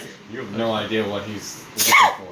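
A person talks, then a single sharp, loud sneeze bursts out near the end, close to the listener.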